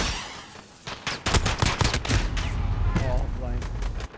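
Pistol fire in a free-for-all match of Call of Duty Modern Warfare: a quick burst of sharp gunshots clustered near the start, followed by a denser stretch of game noise with a voice talking over it.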